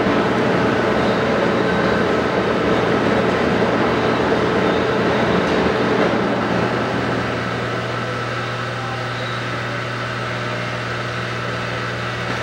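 A Monarch 37 lathe running at 107 RPM, producing a loud steady mechanical drone with a low hum and faint rattling, continuous throughout with no speech.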